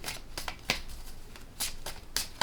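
A deck of tarot cards being shuffled by hand, with repeated crisp riffling bursts and soft flicks at close range, no talking.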